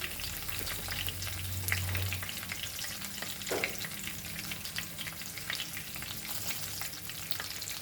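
Pinch of hing (asafoetida) frying in hot oil for Goan vatana usal, a steady close sizzle with a brief stir partway through, no voices.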